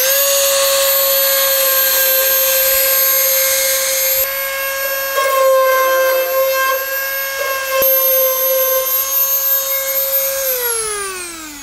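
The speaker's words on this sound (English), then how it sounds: "I'm going to sand down the edges a bit more with the dremel" Dremel rotary tool sanding the edges of a louvre cut into a car bonnet, a loud high steady whine that dips as it bites the metal, then winds down at the end.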